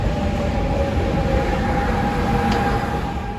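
Paris RER suburban train rolling through, a steady broadband rumble with a sustained tonal whine, loud and close throughout, with a brief higher squeal partway through and no voices.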